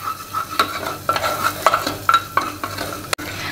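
Broken wheat daliya and vegetables are stirred and roasted in a pan over a low flame, with repeated scraping spoon strokes over a gentle sizzle. The strokes are close, fairly loud and quick, and no one speaks.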